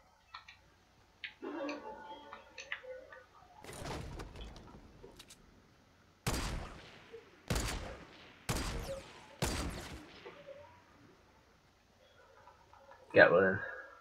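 Gunfire in the Fortnite video game, several sharp, loud shots spaced a second or two apart between quieter stretches, with voices talking faintly.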